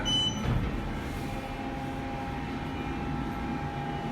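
An Otis Series 5 hydraulic parking elevator at Branson Landing in Branson, Missouri, descends with a steady, even mechanical hum and a faint whine inside the cab, continuous for a few seconds with no talking.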